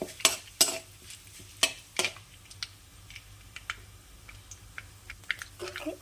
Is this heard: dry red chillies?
yes